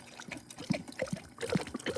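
Water trickles and splashes into a dog's bowl in short gurgling spurts, close by and fairly quiet.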